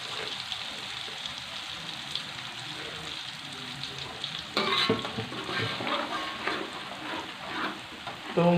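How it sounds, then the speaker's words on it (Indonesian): Blended onion paste sizzles and spits as it fries in a hot pan for a tomato rice dish, a steady close crackle that grows louder and busier halfway through as the paste is stirred in. "Oke, seterusnya saya masukkan bawangnya yang sudah saya blender tadi"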